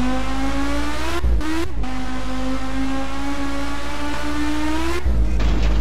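A modded car engine in the My Summer Car video game revs loudly and close, holding a strong droning tone that dips briefly twice and jumps again near the end.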